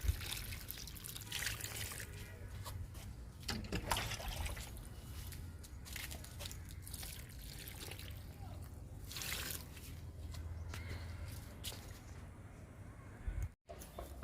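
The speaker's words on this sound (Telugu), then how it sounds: "ఇప్పుడు వాటర్ ఇస్తున్నా మునగ మొక్కలకి." Water trickling and pouring onto young drumstick (moringa) plants in a home garden, a steady splashing dribble that runs for most of the stretch with a brief dropout near the end.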